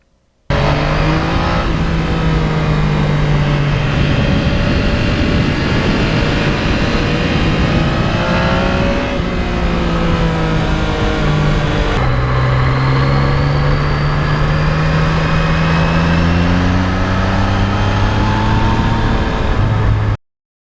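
A 2020 Yamaha MT-09 motorcycle ridden on twisty roads, its engine droning loud and steady throughout with smooth rising and falling pitch as it accelerates and eases off, no shifting breaks and no voices.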